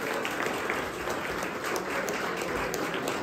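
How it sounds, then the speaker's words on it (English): Crowd applause at a political rally event, a continuous, even roar of many people clapping at steady loudness throughout, without speech over it. "Please, a round of applause"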